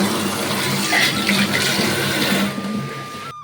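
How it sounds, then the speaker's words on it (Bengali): Tap water runs in a steady, loud hiss and splash while fish is washed at a kitchen sink, continuous and close for a few seconds before quickly fading as the flow stops. "তো চলো মাছটা আমি ধুয়ে নিই"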